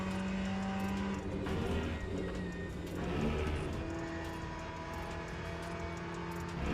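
A racing car engine in a driving video game drones steadily throughout at a moderate level, its pitch rising and falling with gear changes, with no talking over it.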